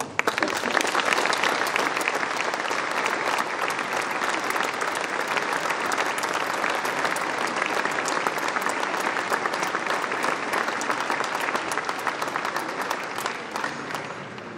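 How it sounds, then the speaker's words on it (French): An audience at a New Year's greetings ceremony in Dax, France, applauds the public agents with loud, sustained, dense clapping lasting about fifteen seconds before tapering slightly near the end. "Je vous demande de les applaudir, je vous demande de vous applaudir"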